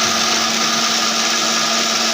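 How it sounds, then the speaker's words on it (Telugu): A mixer grinder runs at full speed, a loud, continuous high-pitched whirring motor blending paste for a liver gravy, close and steady throughout. "దీన్ని అయితే మిక్సీ అయితే పట్టేసుకోవాలి"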